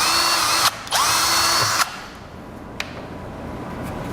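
Cordless drill driving screws into a Toyota Tacoma TRD Pro truck part during a Taco Garage accessory install, two loud close whirring bursts with a brief stop between, then a short click and quiet shop background.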